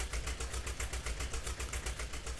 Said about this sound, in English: it's got a good sound to it, it's really is a nice tractor